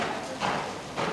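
Hooves of an upper level event horse working on a lunge line during a riding lesson, two soft thudding footfalls spaced apart over steady outdoor background noise.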